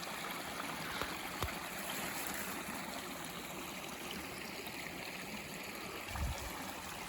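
Forest creek flowing, a steady broadband rush of water running continuously and fairly close, with a couple of faint thumps and no talk.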